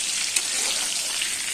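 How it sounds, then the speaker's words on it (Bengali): Eggplant and potato fry in hot oil in a pan, giving a steady close sizzle with a faint crackle and no voices. "এখানে বেগুন আলু ভাজছি"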